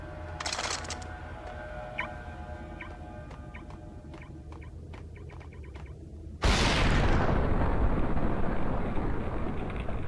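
A frag grenade explosion in Max Payne goes off as a sudden loud, close blast that gives way to a long rumbling roar. Scattered faint clicks and game sounds come before it.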